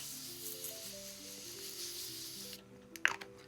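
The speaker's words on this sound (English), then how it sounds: "I spray with setting spray" A steady, airy hiss of makeup setting spray runs for a few seconds under soft tones, then stops, followed by a brief squishy pump sound.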